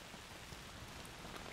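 Steady rain hisses evenly in the video game A Plague Tale: Requiem, a soft continuous wash of falling drops with no voices over it.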